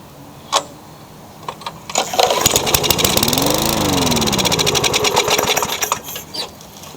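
A curbside-salvaged lawn mower engine, primed with carburetor cleaner, sputters and catches, running rough and rapid for a few seconds with a pitch that swells then fades before dying out, preceded by a few clicks.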